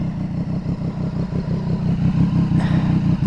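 A Triumph Street Triple 765RS fitted with an aftermarket SC Project exhaust, idling close by with a loud, even, rapid burble that stays steady throughout, with no talk.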